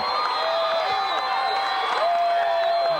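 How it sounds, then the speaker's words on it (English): A basketball crowd at a 1992 boys' state championship game rises in a standing ovation, producing a steady roar of applause and cheering that fills the gym, with a commentator's voice over it. "Hastreiter, a 5'10 senior, given a standing ovation by the St. Francis crowd."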